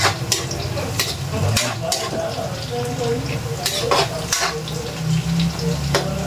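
Garlic, onion and ginger frying in a pan for a Filipino catfish dish, a steady close sizzle with repeated clinks and scrapes of a utensil stirring against the pan, with no talking.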